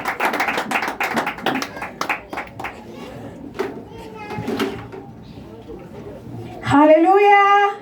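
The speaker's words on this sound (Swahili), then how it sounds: "Tumpigie makofi mazuri." A church congregation applauds during a dedication service, a burst of scattered hand claps mixed with voices, followed by talk and a rising sung or shouted phrase.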